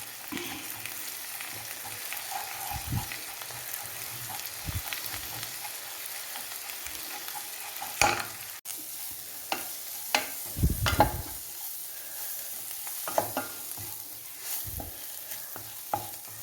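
Meat masala frying in hot oil in a pan for Kerala-style pork curry, a steady soft sizzle with occasional spoon scrapes and stirring clicks, close and without talk.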